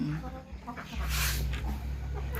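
Chickens on a farm cluck softly while waiting to be fed chopped banana mixed with feed, close and low under ongoing talk, with a brief hissing noise in the middle.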